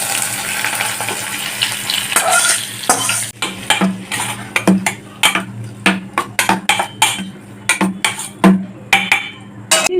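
Fried spices, chili powder and turmeric being stirred into raw mango pieces for pickle, with repeated close scraping and mixing clatter in an irregular rhythm, loud and without speech.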